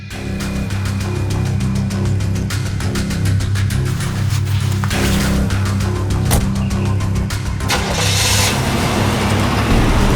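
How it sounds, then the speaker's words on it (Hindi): A car driving along with a steady engine drone and road rumble, loud and continuous for the whole stretch, rising slightly near the end, with no voices. "हेलो, गाड़ी चलाओ।"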